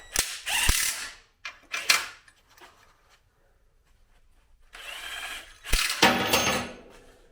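A ratchet wrench tightens bolts during an engine and automatic gearbox install on a Mazda MX-5. It gives close, crisp bursts of rapid clicking in several spells separated by quiet pauses, with no talking.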